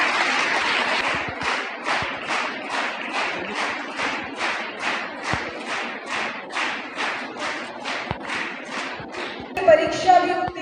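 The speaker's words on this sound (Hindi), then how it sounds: "बच्चों तालियों की गड़गड़ाहट" Children clap in steady unison, a rhythmic series of about twenty even claps close by, with a brief burst of other sound at the very end.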